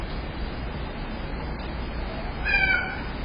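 A cat gives one short meow near the end, against faint, steady background hiss and distant road noise.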